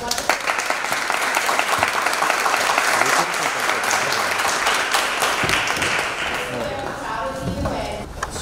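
An audience breaks into loud, close applause at an interview event, a dense sustained wash of clapping that eases toward the end as a voice begins to speak over it.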